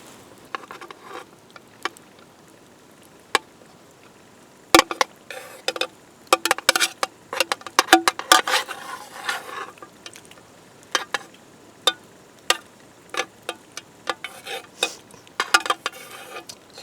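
Cooked macaroni is drained and tipped into canned stewed meat in a pot at a taiga campfire: scattered metallic clinks, taps and soft patters of pot and utensils, irregular and close, with no voices.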